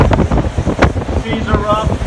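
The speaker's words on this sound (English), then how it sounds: "Pretty windy on the balcony." Hurricane Irma wind gusting across a balcony, a steady broadband roar with rumbling buffets against the microphone, continuous and loud throughout.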